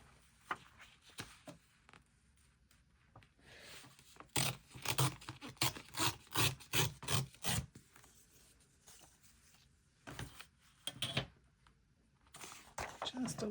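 Paper for an accordion gluebook is trimmed, with a quick run of rhythmic crisp cutting or tearing strokes in the middle and a few more later, close by, with a person talking around them.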